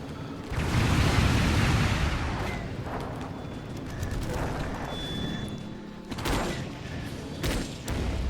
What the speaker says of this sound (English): They've got a long-range cannon over here too.